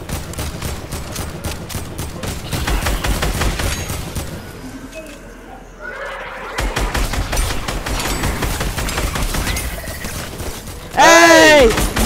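Rapid video game gunfire from a Call of Duty and Fortnite style shooter crackles in dense bursts through most of the stretch. Excited players talk over it, and a sharp chiming burst near the end cuts through.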